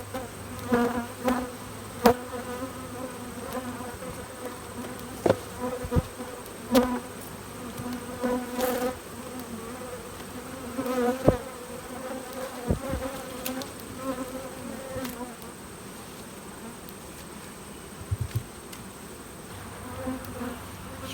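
Honey bees buzz around an open single brood chamber hive in a continuous close hum. Scattered sharp knocks and taps from hive work rise above the swarm.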